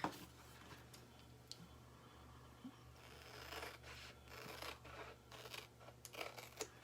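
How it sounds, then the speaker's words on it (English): Scissors cutting out shapes for a chalk transfer craft, sounding as a series of faint, sparse snips and crisp clicks, close by against a quiet background hum. "I'm gonna cut these up really quick"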